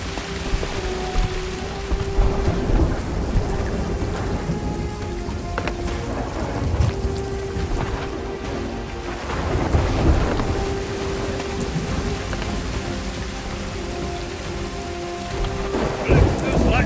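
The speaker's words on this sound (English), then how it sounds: "Calypso's lightning cracked the spire." Thunder rumbles and cracks through a heavy storm in the Sea of Thieves pirate game, with steady rain pattering on surfaces and deep booms swelling around the middle and end; no talk.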